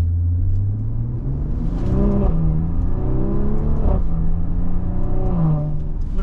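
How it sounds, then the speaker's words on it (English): A 2023 Maserati Levante Modena's twin-turbo V6 with a ZF transmission accelerates hard in manual mode, a loud close engine note rising in pitch with each gear and then dropping sharply at several quick upshifts. "Even with a twin-turbo V6, it sounds glorious."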